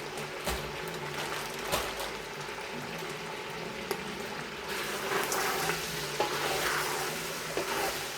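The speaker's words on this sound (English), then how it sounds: "You hear that meat frying?" Pork belly frying in a pot for Samoan sapasui, a continuous sizzle and bubbling with occasional scraping stirs and clicks, moderately loud and close.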